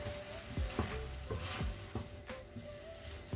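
Vegetables sizzle quietly in a pan with sweet and sour soya sauce while a utensil stirs them, giving soft scraping strokes at an irregular rhythm over a steady frying hiss.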